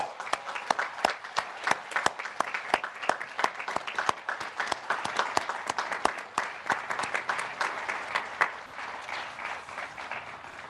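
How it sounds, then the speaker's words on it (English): Audience applause at the Wilbraham & Monson Academy 2021 commencement ceremony after an award is presented, with sharp individual claps standing out over a steady crowd clapping that gradually thins and softens toward the end. "Please join me in applause."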